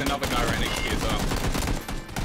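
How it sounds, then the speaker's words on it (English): Rapid gunfire in the battle royale video game PUBG, a dense fusillade of cracking shots in quick bursts, loud and continuous, with players talking faintly underneath. "I hear the gunfire"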